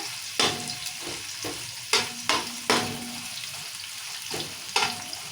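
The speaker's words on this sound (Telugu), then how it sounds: "ఈ ఉల్లిగడ్డ మంచిగా వేగాలి" Onions fry in ghee and oil with green chillies for a home-style chicken biryani, a continuous close sizzle broken by several sharp spatula scrapes and stirring knocks.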